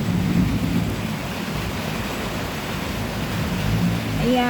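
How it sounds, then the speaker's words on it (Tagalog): Dense, steady hiss of heavy rain falling outdoors, a loud continuous wash of noise with no break, faint tonal sounds surfacing briefly underneath. "Ingat po tayong lahat sa maulan na panahon."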